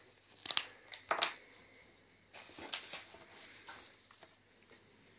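Plastic packaging of a cheap black permanent marker being opened, with several sharp crinkling and tearing bursts close by and quieter rustling between them, no talk.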